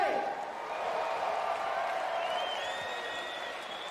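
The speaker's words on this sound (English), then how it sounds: "round of applause for these two heavyweights" Crowd applauding and cheering at a heavyweight boxing bout, steady broadband clapping filling the whole stretch with a few whoops, a voice speaking over it.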